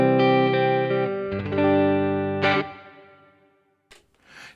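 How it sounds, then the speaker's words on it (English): Clean electric guitar through a clean Fender-style amp with a touch of reverb, played through a Keeley Muse Driver pedal set clean: sustained strummed chords and ringing notes, then a decaying tail and a brief final strum, loud and alone. "So here's my clean sound."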